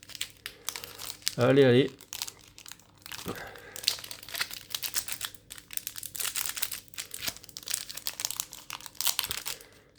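A foil Pokémon Zenith Supreme booster pack is torn open with one short, loud crinkling rip, followed by softer rustling of the wrapper and cards while someone talks in French.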